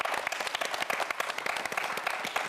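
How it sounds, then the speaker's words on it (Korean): A studio audience on a Korean TV quiz show claps in a brisk, even burst of applause, close and continuous with crisp individual hand claps throughout. "큰 박수 부탁드립니다"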